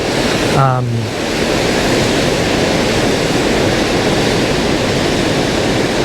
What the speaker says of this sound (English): Today the waves are rated from 5 to 7 feet